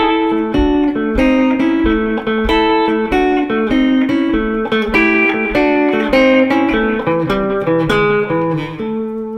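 An electric guitar plays a bouncy, twangy rockabilly lick with plucked notes sliding between pitches, close and steady, with no talking.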